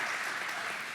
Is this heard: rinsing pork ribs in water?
no